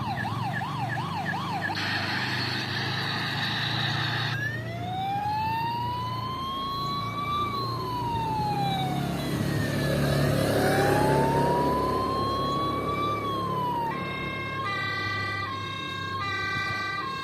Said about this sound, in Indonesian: Sirine mobil pemadam kebakaran.